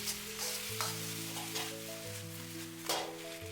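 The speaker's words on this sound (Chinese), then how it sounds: "快速翻炒均匀" Eggplant and egg are stir-fried in a wok with oyster sauce and soy sauce, a steady close sizzle broken by the scrape and toss of stirring, with no talk over it.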